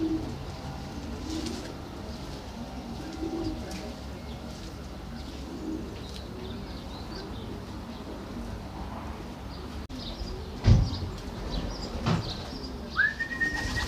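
Soft homing pigeon coos repeat at a steady distance over a low outdoor rumble in England, with a brief thump and a short chirp near the end.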